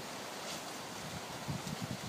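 Outdoors at beehives on a windy day in Florida, a steady broadband rush of wind buffets the microphone, with a few low thumps toward the end and no talking.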